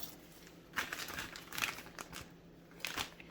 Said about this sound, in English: I'm going to put them in a plastic bag